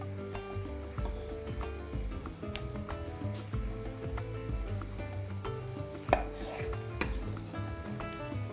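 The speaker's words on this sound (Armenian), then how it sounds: "Սունկը կտրում ենք երկու մասի։" Mushrooms are cut in half with a knife on a board, a run of close, irregular taps and knocks with one sharper hit near the end, and no voices.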